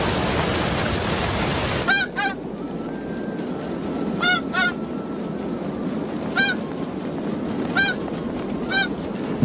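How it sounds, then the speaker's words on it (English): Canada geese honk in flight, several short nasal calls repeating every second or so over a steady wind-like roar, fairly close and clear above the background rush. "Canada geese fly at 70 kilometers an hour."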